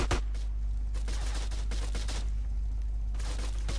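Rapid gunfire in GTA San Andreas comes as a dense run of loud shots over a constant low hum, fading briefly before picking up again. There is no talking.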